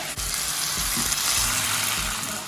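Potatoes fry in a pan over high flame with a dense, loud, continuous sizzle, broken by a few soft knocks and shuffles as they are tossed.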